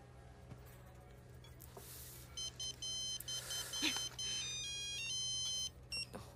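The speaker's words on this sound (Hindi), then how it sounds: "तुम्हारी माँ का फोन है।" A mobile phone ringtone plays in an indoor scene, a repeating electronic melodic tone that starts after a couple of seconds and continues in bursts over a low steady hum.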